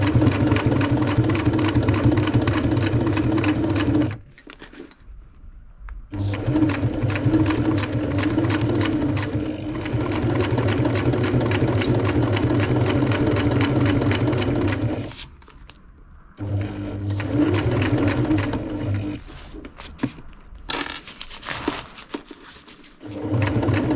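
A sewing machine back-stitches a tent seam on a Panacea 2 tent, whirring in long continuous runs broken by two short pauses, close and steady with a mechanical knocking pulse.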